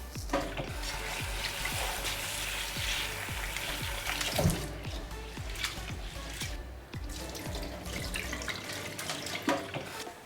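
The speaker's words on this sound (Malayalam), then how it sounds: "ഇത് നല്ല പോലെ കഴുകി വൃത്തിയാക്കി എടുക്കുക" Rice and mung beans being washed in water for kanji, with steady running and splashing water and repeated stirring knocks from the grains, close and continuous throughout.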